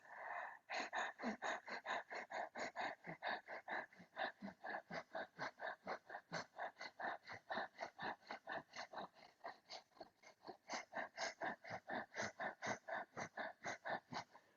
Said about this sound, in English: tongue all the way out and panting from the chest